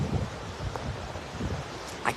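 Wind buffeting an outdoor microphone, a steady low rumble with gusty swells lasting throughout and no clear speech.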